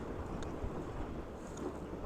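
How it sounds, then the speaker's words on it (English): Strong wind buffets the microphone at a waterside spot, a loud, continuous low roaring rumble with gusty swells and no talking. "It's really windy, folks."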